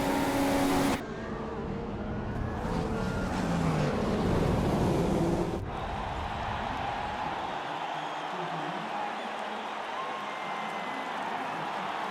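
Onboard Formula 1 car crossing the finish line to take a race victory, a loud steady engine roar with wind and track noise that drops abruptly to a lower, quieter drone partway through.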